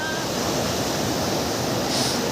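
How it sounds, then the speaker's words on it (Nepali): A clean river stream in Nuwakot flows with a steady, broad rushing wash of water, close and continuous, with faint wind noise and no talking. "कति राम्रो ठाउँमा यो खोला चाहिँ काठमाडौँमा हुनुपर्ने यति सफा खोला"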